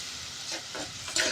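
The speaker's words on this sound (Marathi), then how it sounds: "आता आपण याला छान मस्त परतून घेऊ." Masala brinjal sautés in hot oil with a steady close sizzle and brief stirring scrapes.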